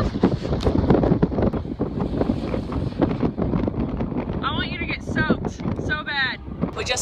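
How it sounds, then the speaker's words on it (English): Steady gusting coastal wind roars across the microphone near crashing waves, buffeting loudly throughout, with people talking underneath and a few faint bird-like chirps near the end. "because it's very windy"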